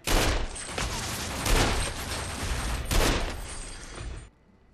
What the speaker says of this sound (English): You'll feel lucky using this hand cannon to send punk-ass enemies to the grave!